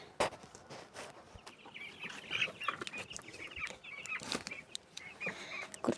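Several chickens cluck and murmur nearby, with scattered sharp clicks and rustling throughout.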